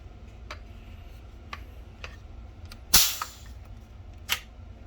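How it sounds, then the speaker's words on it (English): A sharp click sounds as an air tank is screwed onto a VKS paintball marker, preceded by faint ticking taps and followed by another small click, close and quiet. "Screw your tank on there."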